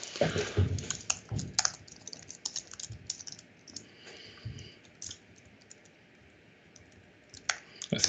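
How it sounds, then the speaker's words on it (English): Quick bursts of clattering keystrokes on a computer keyboard, loud and close, with pauses between flurries and a final cluster of clicks. "I just need to type."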